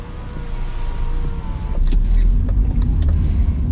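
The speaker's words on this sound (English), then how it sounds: "Sunroof seems to work at least." A BMW 316i's power sunroof motor runs with a steady whirring hum inside the car's cabin, heard close and continuous under a low rumbling background, with a few light clicks and knocks.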